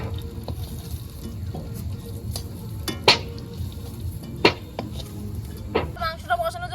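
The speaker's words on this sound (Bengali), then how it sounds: "আলু ভাজার আওয়াজ দেখে তো" Potatoes sizzle in hot oil in a pan over a stove at an outdoor picnic, a low steady frying hiss broken by sharp clinks and scrapes of a stirring utensil against the metal, with some sparser clatter near the end.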